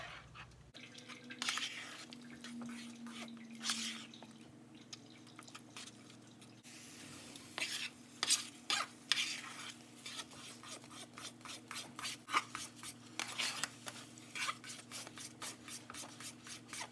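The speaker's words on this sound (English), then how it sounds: "we will stir it continuously so that it won't stick into the bottom of the pan" Pineapple pie filling thickened with cornstarch is stirred in a pan, giving steady soft scraping and swishing strokes with small drips, close and fairly quiet, with no talking.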